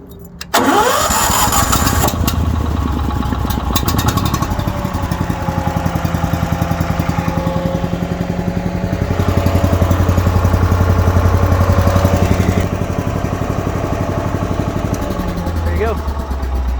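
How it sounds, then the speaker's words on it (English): A Billy Goat leaf loader engine pulls to life with a quick catch, then runs at a steady, loud, close idle for the rest of the stretch, its pitch swelling briefly midway, with some talk heard over it. "It starts right up."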